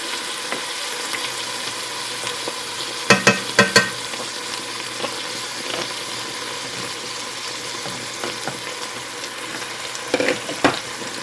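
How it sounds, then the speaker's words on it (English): Mushrooms and cream cheese stirred in a pan, with a steady low sizzle and a few clustered scraping clinks of the spoon against the pan, close and fairly quiet, no talking. "we're going to stir this until the cream cheese melts"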